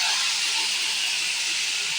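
Hot water poured into a pan of cooking spiced curry gives a steady, close hiss of steam that runs unbroken for two seconds with no talk.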